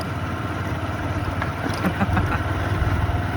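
A motorbike engine rumbles steadily at close range as it passes on a badly broken village road between Vejalpur and Karoli in Kalol taluka, Panchmahal, its drone holding even throughout the short stretch.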